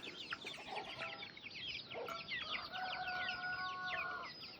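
Several chickens cluck and squawk close by in a village in Myagdi, Nepal, overlapping calls with a few drawn-out tones, over a steady outdoor background.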